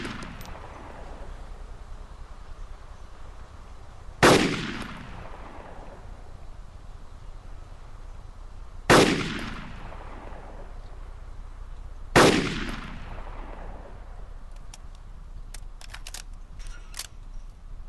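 Three single CZ 550 sniper rifle shots in DayZ, each a loud sharp crack with a long echoing decay, spaced several seconds apart over quiet outdoor ambience.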